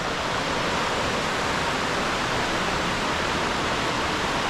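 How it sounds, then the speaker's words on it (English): Steady, full roar of a waterfall and small rapids at the bottom of a limestone gorge in the Yorkshire Dales near Malham, close and continuous with no voices. "I've come on to the bottom of the waterfall now at the end of the gorge"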